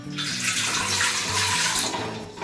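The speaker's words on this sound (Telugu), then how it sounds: "పెద్ద గ్లాస్ వాటర్ పోసి" Water pours into a big glass in a continuous, close splashing stream that lasts a couple of seconds.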